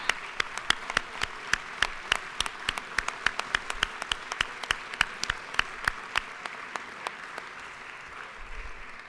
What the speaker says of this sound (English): Let's applaud and welcome them to the People's House.